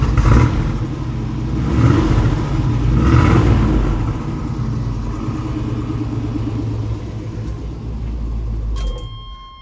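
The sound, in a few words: 1986 Chevrolet K5 Blazer engine revving and driving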